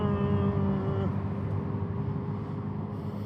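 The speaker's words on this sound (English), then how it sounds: "they've installed a whacking great big speaker underneath the car where the spare wheel well would be. And it mimics the sound of a car." An Abarth electric car's underbody speaker plays a synthetic engine note, a steady, fairly loud tonal drone whose pitch drops once early on and then holds flat, like an engine stuck in one gear.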